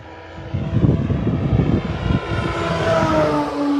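E-flite Carbon-Z T-28 2.0m RC warbird on a 6S setup, flying at 50% throttle on its maiden flight, giving a loud, steady propeller drone that swells and shifts in pitch as it passes near.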